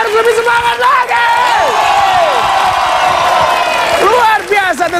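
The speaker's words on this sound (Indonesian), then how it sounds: "boleh dong lebih semangat lagi, kasih tepuk tangannya" Loud studio crowd at an Indonesian television game show yelling, whooping and clapping in a sustained roar, with sharp shouted cries rising above the noise near the start and end.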